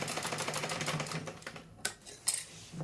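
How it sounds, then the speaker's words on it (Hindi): Sewing machine stitching the side seams of a salwar, a rapid rhythmic mechanical chatter that runs steadily, then stops, followed by a couple of sharp clicks and knocks, close and moderately quiet. "दोनों तरफ के हिस्से से सिलाई लगानी है, सीधी सीधी ऊपर से लेकर नीचे तक पूरी सिलाई लगानी है"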